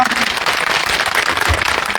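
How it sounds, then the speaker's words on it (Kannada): Kannada employees' association meeting audience clapping in approval, a dense, steady wash of many hands throughout, close and loud with no talk over it. "ಮಾಡ್ಬೇಕು ಅಂದ್ರೆ ಚಪ್ಪಾಳೆ ಹೊಡಿರ ನೋಡ"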